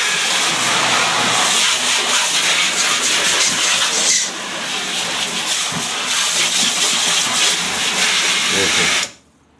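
Water is rinsed through the tank of a FRESH desert air cooler, a steady hissing wash that runs loud and continuous with a short dip near the middle, then cuts off sharply at the end.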